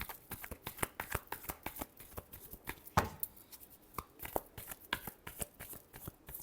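Tarot cards being shuffled by hand, a quick run of crisp riffling slaps and flutters in irregular bursts, close and fairly quiet, with no talking.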